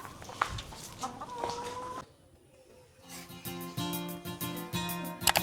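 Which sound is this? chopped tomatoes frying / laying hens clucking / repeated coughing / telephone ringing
laying hens clucking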